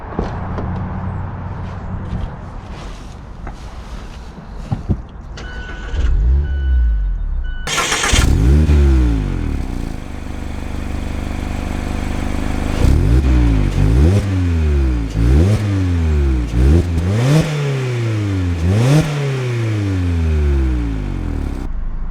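A 2021 Mazda Miata RF Club starts and drives off, its engine revving hard through repeated rising sweeps with quick shifts between them, loud and close from inside the car.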